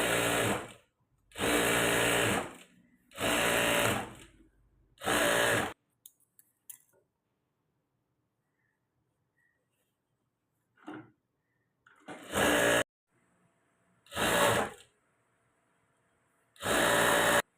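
A sewing machine stitches a padded princess-cut blouse in short, loud bursts of close mechanical whirring, separated by near silence and a few faint handling noises.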